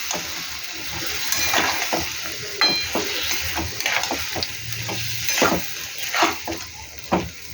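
Potatoes cooked with poppy seed paste are stirred in a frying pan, a steady sizzle under repeated scraping and clinking strokes of the spoon against the metal, close and fairly loud.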